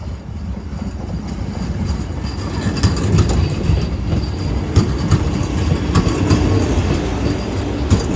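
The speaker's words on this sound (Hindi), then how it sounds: "हमारे भारत की सबसे बढ़िया ट्रेन वंदे भारत।" The Vande Bharat Express runs along the track with a dense, continuous rumble, rhythmic clickety-clack from the wheels and faint squeals, close and loud throughout.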